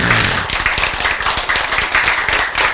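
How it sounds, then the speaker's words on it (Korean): A church or lecture audience claps together after a health talk, a dense burst of hand claps filling the space at close range, loud and steady for a few seconds. "누구에게 보내는 박수 이거?"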